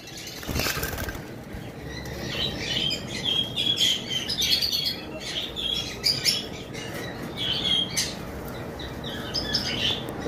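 A pair of caged lovebirds, a green Fischer's opaline and an Ewing, give rapid, shrill chirps and squeaky calls in repeated bursts over a steady background hum, fairly close, with no talk.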